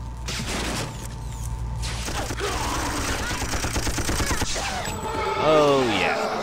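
Gunfire aimed at a robot inside a lab-like level of the PC shooter Messiah, a dense run of rapid mechanical shots with clanking machinery, ending in a rising whining sweep.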